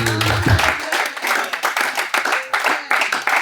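A church congregation, women among them, claps and applauds in steady rhythmic bursts, loud and close, right after a short spoken line from a preacher.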